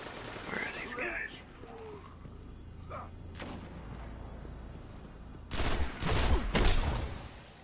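Video game gunfire during a crossfire, with scattered shots and thumps early, then a heavy burst of loud rapid gunfire and booms near the end, under a player's occasional talk.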